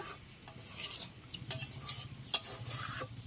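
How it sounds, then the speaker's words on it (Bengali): Water swirls in a kadai to rinse off clinging spices while a metal spoon stirs and scrapes the sides, with a faint sizzle between a few sharp clanks; quiet, with no speech. "এবারে এই কড়াইয়ে জল দিয়ে মশলাটা একটু ধুয়ে ভালো করে এর মধ্যে দিয়ে দেব।"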